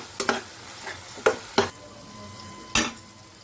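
Masala for prawn biryani stirred and mixed in a pan over a medium flame, heard as a few sharp spoon scrapes and clanks against the metal over a faint background sizzle.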